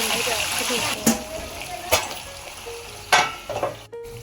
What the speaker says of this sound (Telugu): మూత పెట్టుకుంటూ మధ్య మధ్యలో కలుపుకుంటూ ఫ్రై చేసుకోవాలి